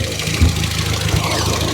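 Peugeot 106 Sport with a modified setup idles close by, a steady loud mechanical rumble with a slight uneven pulse, heard alone without talk.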